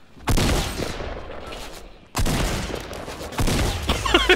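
Bursts of Fortnite gunfire, a loud rapid volley at the start and another after a short pause, with further shots trailing off near the end.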